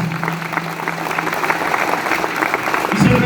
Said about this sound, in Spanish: Si va a aplaudir, apláudale con ganas.